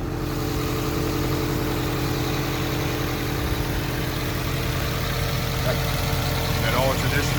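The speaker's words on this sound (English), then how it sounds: "That all traditional Subaru boxer motor." A Subaru boxer engine idles steadily and loudly throughout, a continuous low rumble with constant vibration; a voice speaks faintly toward the end.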